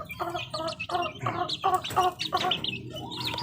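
Several chicks cluck and cheep in a steady series of short, rhythmic calls, close and clear, with higher chirps layered on top.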